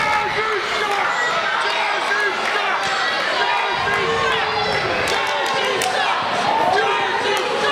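A live crowd at a professional wrestling event roars continuously, dense loud cheering and shouting with thuds from the ring beneath, and voices talking over the din.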